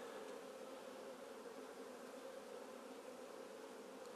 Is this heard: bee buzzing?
yes